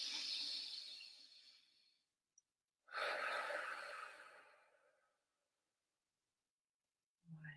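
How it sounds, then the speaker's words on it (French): During a group coaching session, a long breathy inhale rises for about two seconds, then after a short pause a deep exhale follows that gradually fades into silence, close and clear with no talk. "Et vous allez prendre une grande respiration."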